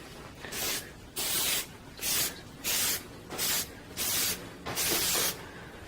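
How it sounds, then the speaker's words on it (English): Seven short bursts of aerosol seam sealant spray hiss in a steady rhythm onto a tarp's center seam, each about half a second long with brief pauses between, close and fairly loud. "I'm gonna go ahead and start spraying my center seam"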